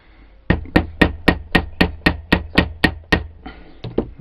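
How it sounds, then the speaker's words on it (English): A lump hammer taps repeatedly on a Snap-on 18V battery pack during a re-cell repair, about a dozen sharp, evenly spaced knocks close and loud, with no talk. "lump hammer as I'm using and just tap gently a few times, and that smooths that out perfectly"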